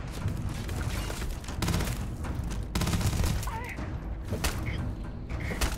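Sci-fi weapons fire in Starfield during a room-clearing fight, with bursts of rapid shots and booms that come and go across the scene, mixed with game sounds and a speaking voice.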